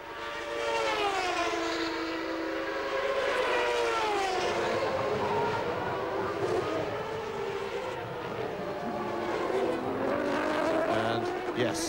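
Formula One race car engines at the 1993 Canadian Grand Prix scream through the gears, high-pitched revs rising and falling repeatedly over several seconds, heard under a commentator talking throughout.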